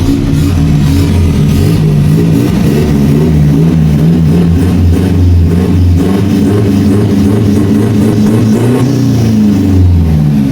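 A used cargo box truck's engine runs loud and close throughout, a deep steady rumble with slight rises and falls in pitch as it is revved, with no talking.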